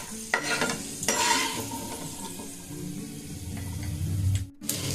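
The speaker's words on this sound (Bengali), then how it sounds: "মনে হচ্ছে বাদামগুলো সব ঠিক ভাজা হয়ে গেছে" Fried peanuts being stirred in hot oil in a home kitchen pan, a steady scraping and soft sizzle with a few sharper clinks of the spoon, close and fairly loud.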